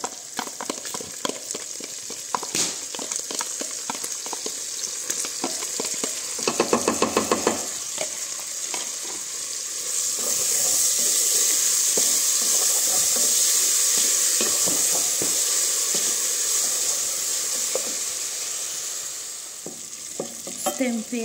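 Garlic and onion fry in a pan for farofa, a constant hissing sizzle with clattering stirring strokes, a louder burst of scraping midway and a swelling rush of sizzle later on.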